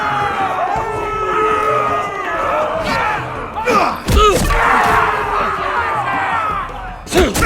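An arena crowd cheers and roars in a Game of Thrones fight scene, a dense swell of shouting voices with occasional loud thuds and whoops, and shouted speech over the crowd.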